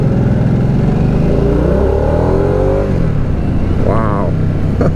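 A Harley-Davidson Nightster motorcycle engine fires up and settles into a steady, loud idle, running continuously up close with a brief rev near the end.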